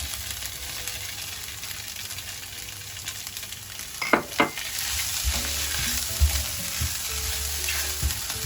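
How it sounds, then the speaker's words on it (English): Mushrooms sizzle in a hot pan, a continuous close frying hiss with a couple of sharp scrapes and knocks partway through. "Now I'm going to fry in the mushrooms."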